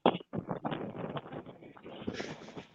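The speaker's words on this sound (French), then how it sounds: "Oh, il y a du vent chez toi, hein?" Wind buffets an outdoor microphone in a steady rough roar with gusty surges, with no clear speech over it.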